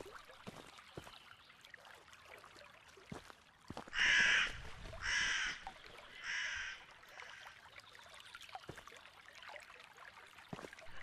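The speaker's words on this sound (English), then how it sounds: "Oh, there's the crow again." A crow caws in the video game The Fabled Woods, three loud harsh calls in steady succession around the middle, standing out against a quiet, faintly hissing ambient background.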